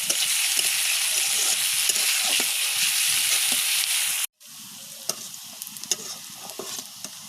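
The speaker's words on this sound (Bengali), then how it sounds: "পেঁয়াজ রসুন তেলে দিয়ে ভালো করে ব্রাউন কালার হয়ে আসা পর্যন্ত আমি এটা ফ্রাই" Chopped onion and garlic sizzle loudly in hot oil in a pan, with ladle scrapes and taps from stirring, a brief cut in sound midway, then softer frying continues.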